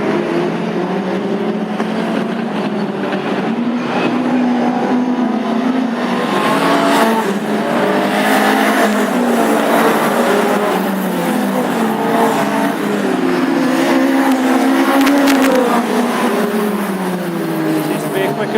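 Classic hot rod race cars lap an oval short track at Hednesford in a heat race, engines droning and rising and falling continuously as they pass, with a commentator talking steadily over the noise.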